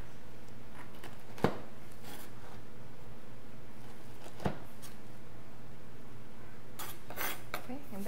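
A knife cuts through a baked biscotti log on a board, giving two sharp, crisp cracks a few seconds apart. Softer clinks and light handling noises follow over a quiet room hum.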